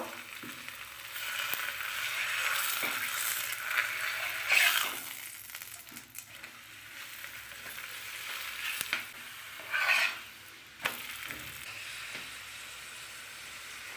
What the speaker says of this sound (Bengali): এরম এরম প্রত্যেকটা ভেজে ভেজে তুলে নেব